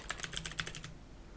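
Quick bursts of typing on a computer keyboard, about eight close, crisp key clicks in rapid succession before falling quiet.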